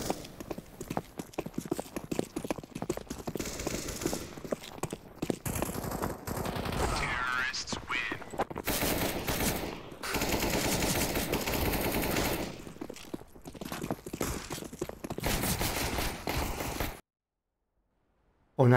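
Rapid Kalashnikov rifle fire in the CS:GO video game, dense bursts layered with other game noise and clip-clop-like clatter, loud and continuous for most of the stretch before cutting to silence near the end.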